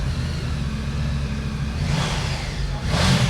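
A 2020 Triumph Tiger 900 motorcycle engine idling with a steady low rumble close by, then revving briefly twice near the end, no voices.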